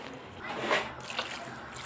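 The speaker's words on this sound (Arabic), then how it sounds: "هنحط 3 كوب من الماء" Water poured from a measuring cup into a cooking pot while making a dish, a soft splashing pour that swells around the middle and fades, near and fairly quiet against kitchen background.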